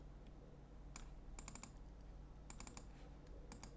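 Computer keyboard keystrokes while working in Photoshop: quiet, close clicks in small quick clusters separated by pauses over a low steady background hum, with no talk.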